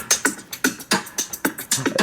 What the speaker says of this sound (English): I also added this drum loop